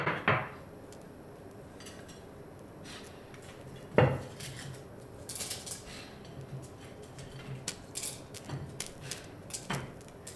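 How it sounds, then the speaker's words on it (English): A pestle strikes and grinds cinnamon sticks in a mortar for chai, with sharp, irregular knocks and scrapes spaced several seconds apart over a quiet background, fairly close but soft. "Now for the cinnamon and the cardamom, we're going to use this mortar and pestle."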